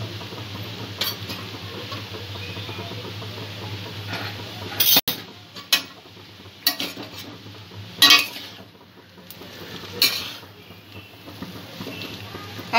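Egg chow mein is stirred in a pan, with a soft background sizzle broken by intermittent metallic clinks and scrapes of a utensil against the pan.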